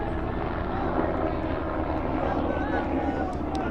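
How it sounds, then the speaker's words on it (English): A helicopter flies over a high school baseball game, a loud steady rotor and engine drone filling the whole stretch, with a commentator talking over it. "Second time here today we've seen a helicopter fly overhead"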